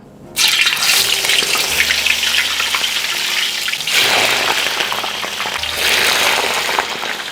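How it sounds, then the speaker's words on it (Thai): Potatoes drop into hot oil for deep frying and set off a loud, dense sizzle and crackle that swells in bursts as more pieces go in, continuous and close with no talking. "ต่อไปแล้วก็ทยอยทอดเลยครับ"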